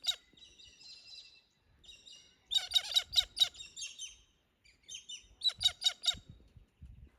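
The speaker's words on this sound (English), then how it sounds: "Australia has the noisiest birds you'll ever hear" Loud Australian birds call nearby in bursts of harsh, rapid squawks and chirps, pausing between volleys in otherwise quiet surroundings.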